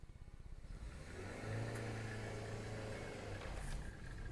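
Manual car engine pulls away as the clutch is released, a low throbbing idle swelling into a steadier, louder hum as revs rise and hold, close up with no talk.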